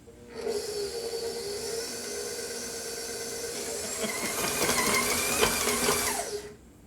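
A stand mixer beats gluten-free cookie dough, a steady close motor whir with rising and falling pitch that grows busier and more strained partway through, then cuts off.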